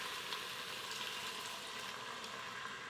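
Kung Pao sauce pouring over browned chicken in a slow cooker, a soft continuous liquid hiss and splash at a close, low level with no talking.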